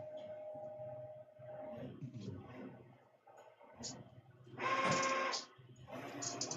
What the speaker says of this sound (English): Ross, this is an Epson F3070. So this is their commercial printer